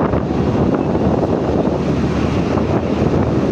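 Steady wind roars over the microphone with a broad rushing buffet, loud and continuous throughout, no voices.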